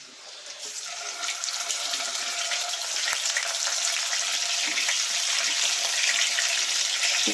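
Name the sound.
home-dried kadavarala fish frying in oil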